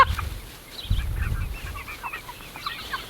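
Bielefelder roosters and hens cluck and murmur nearby on grass, with scattered soft chirpy calls and low shuffling over several seconds, no talking.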